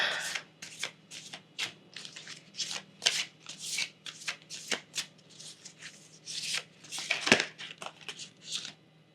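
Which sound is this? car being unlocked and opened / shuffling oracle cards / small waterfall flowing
shuffling oracle cards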